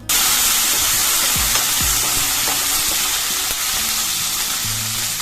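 About fifteen green chillies frying in a pan for a raw mango and coconut chutney, a loud steady sizzle and crackle with occasional stirring scrapes, close up with no talking.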